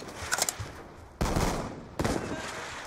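Video game gunfire on a map full of shotguns: a few quick distant pops, then two heavy close blasts with booming tails, loud and alone.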